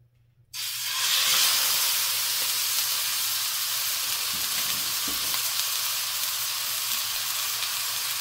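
Osso buco shanks sear in a pan over medium-high heat, producing a loud, steady sizzle that starts abruptly after a brief silence and holds evenly throughout, with no talking.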